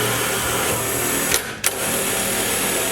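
A drill boring a small pilot hole for a bedside compressor mount in a Toyota Tacoma, a steady close whine that briefly surges and cuts out around the middle, with no talking.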